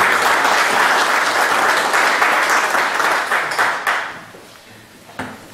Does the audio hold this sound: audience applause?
yes